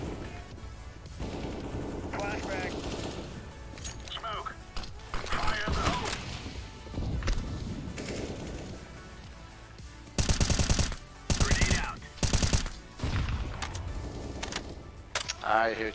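Rapid bursts of gunfire from a Counter-Strike match, loud repeated volleys clustered in the second half, with game effects and players talking over them throughout.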